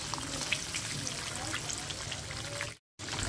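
Tangra fish fry in hot oil, giving a soft, continuous sizzle and crackle at low volume, close by, with a brief dropout near the end.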